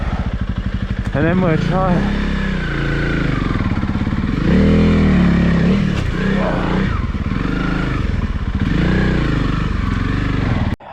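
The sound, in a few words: Honda CRF300L motorcycle engine revving in first gear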